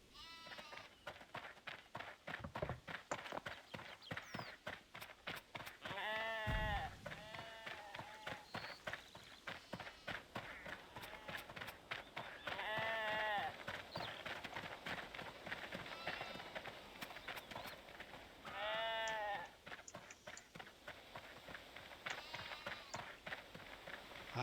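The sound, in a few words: sheep bleating in RuneScape 3 video game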